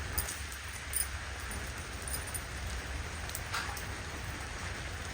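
Steady rain falling outdoors in a scenic spot near Mysore, a soft even hiss of drops with a few brighter spatters, continuous and moderately close with no voices.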